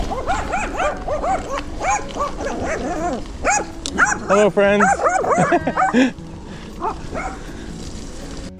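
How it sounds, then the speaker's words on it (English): Friendly dogs bark and yip repeatedly along a gravel road during a bike ride, loud and close, with a voice speaking over them. "and I even made friends with some friendly dogs."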